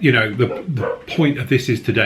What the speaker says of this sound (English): Excuse the dogs are having a bark, probably delivery coming in.